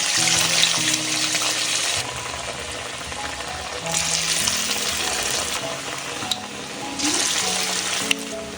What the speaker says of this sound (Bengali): এবার আমি একটা একটা করে পকোড়া দিয়ে দেব।